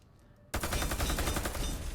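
Rapid automatic weapon fire in the shooter game Warface, an abrupt start after a quiet moment followed by a loud, continuous stream of closely spaced shots.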